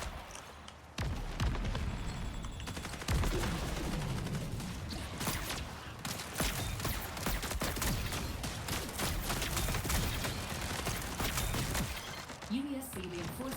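Shadow clones fire guns in Marathon, the Mac shooter game: bursts of sharp shots and rattling fire crowd a busy, dense stretch, with a voice talking over parts of it.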